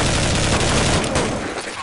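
Gunfire on the Inferno map of Counter-Strike 1.6: a dense, loud, continuous roar of shots filling the whole moment, easing slightly toward the end.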